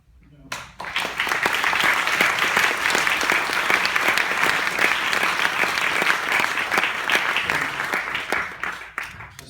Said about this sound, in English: I think that the Maysles crew, I call them, deserve a good round of applause